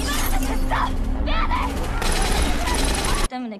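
Gunfire from a scene in the Korean TV series Money Heist: Korea, a dense loud burst of shots and crackling impacts running continuously before cutting off abruptly near the end.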